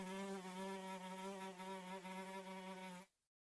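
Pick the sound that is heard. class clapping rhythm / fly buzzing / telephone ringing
fly buzzing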